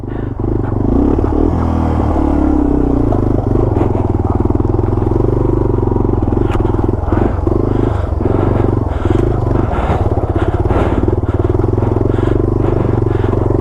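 Yamaha TW200 motorcycle engine idling and pulling away on a Colorado trail, a steady loud single-cylinder drone throughout with some clatter and scraping mixed in.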